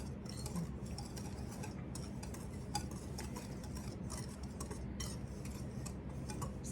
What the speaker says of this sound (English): I'm gonna use my whisk to just kind of lighten these up together,